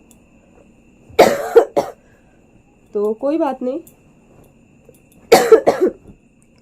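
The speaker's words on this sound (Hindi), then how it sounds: "मेरे इतनी खांसी हो रही है कि मैं बात भी नहीं कर पा रही हूँ" Two harsh bursts of coughing, each a quick cluster of coughs, separated by a short spoken phrase in Hindi from a woman.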